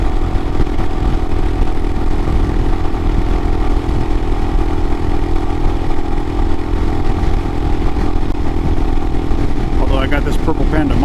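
A 2022 Royal Enfield Himalayan with a carburetor conversion rides at around 70, its engine droning loud and steady under heavy wind roar for the whole stretch.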